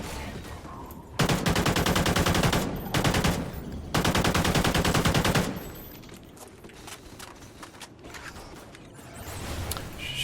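Rapid automatic gunfire from a small weapon in the Xbox 360 game Call of Duty: Ghosts Extinction, in two loud sustained bursts of about two seconds each, then quieter game ambience.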